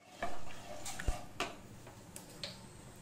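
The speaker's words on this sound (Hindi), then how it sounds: "जल्दी स्पेचुला से चलाएंगे" A spatula stirs white sauce in a pan, giving soft scraping strokes and a few light taps and clicks over a faint sizzle, all fairly quiet and up close.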